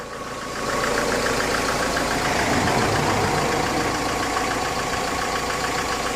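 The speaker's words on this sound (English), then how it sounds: "As you can see, it's a remanufactured engine." A remanufactured Mercedes Sprinter 646 diesel engine idling, a steady, loud, close rumble with an even knocking rhythm that holds for the full length without any talk.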